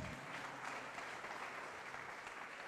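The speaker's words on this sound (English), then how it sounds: "Please give another big round of applause." Steady, dense audience applause at a university student orientation event, even and sustained throughout, heard from within the hall with no talking over it.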